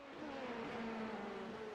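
A race car's engine drones during a pit stop in a Talladega multiclass endurance racing video game, a faint, steady humming whine lasting under two seconds.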